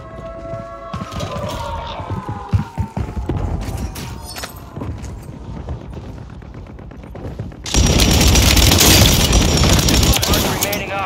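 Airstrike explosions in the video game Warzone on Rebirth Island: rapid gunfire crackles and thuds under a voice, then a sustained loud roaring burst of blasts fills the last few seconds.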